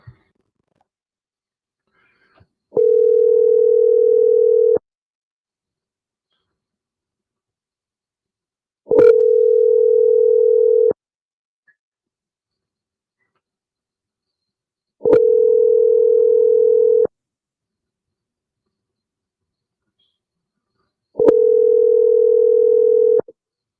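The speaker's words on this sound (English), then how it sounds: "We're gonna make a phone call." Telephone line tone heard while placing a call: four loud, steady, two-second tone bursts repeating evenly about every six seconds, with silence between and no talking.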